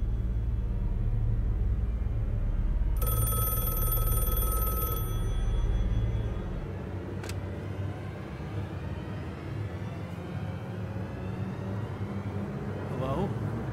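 A telephone rings for roughly two seconds in a puppet web series, a bright electronic ring over a low rumble with voices talking around it.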